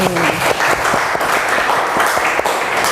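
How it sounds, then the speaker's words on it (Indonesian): Steady, dense applause from a classroom audience during a teaching-practice lesson, filling the whole stretch at an even loudness, with a brief voice at the very start. "Tepuk tangan untuk motivasi kita hari ini"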